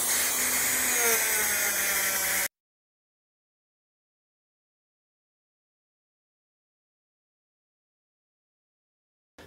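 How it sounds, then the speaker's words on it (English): A Dremel fitted with a wire brush polishes the metal of an old egg beater, giving a short, loud, high-pitched whine up close that cuts off abruptly and is followed by silence. "The Dremel with a wire brush is the way to go."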